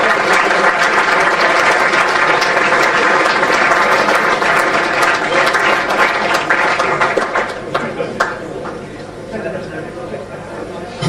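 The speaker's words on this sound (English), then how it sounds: "Big round of applause," Loud sustained applause from an audience at an end-of-season awards evening, dense clapping and cheering that holds for several seconds before thinning out near the end amid crowd noise.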